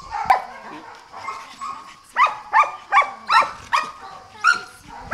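A dog at a municipal animal shelter in Albenga barks in a quick run of five or six sharp, fairly close barks, after a few quieter yips and whimpers at the start.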